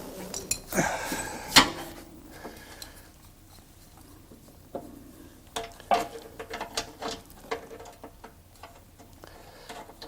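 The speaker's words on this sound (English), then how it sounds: "Give me that ratchet there." A hand ratchet wrench works a bolt on a car suspension A-frame during a suspension overhaul: sharp metallic clicks and clanks come in irregular bursts, close and fairly loud, with scattered knocks of tools against metal and no talking.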